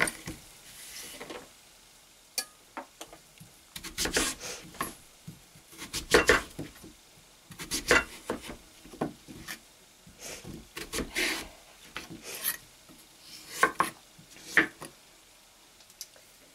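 Vegetables being chopped for a quick soup on a board, with irregular knife knocks and taps, some sharp and close, others softer, scattered through a quiet kitchen.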